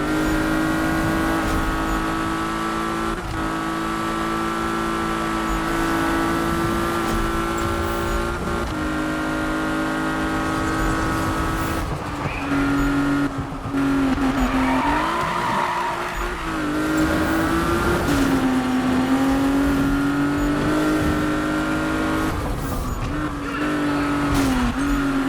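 Racing car in the Need for Speed video game, a loud continuous engine roar that rises and falls with gear changes and revving, with tire squeal during cornering and no talk over it.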